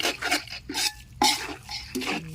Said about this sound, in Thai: โรยหอมสักหน่อยแล้วก็ผัดคลุกเคล้าให้เข้ากันอีกรอบนะคะ